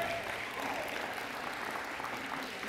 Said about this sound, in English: if we could give a really big round of applause for Quinn Caney